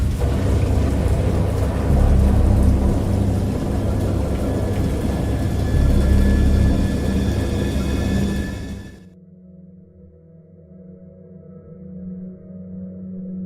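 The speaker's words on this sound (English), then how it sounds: "I heard pearls of thunder and other tones which nature utters only in her wildest moods" Heavy storm with rain pouring and deep rumbling thunder, loud and continuous before cutting off abruptly to a quiet low hum.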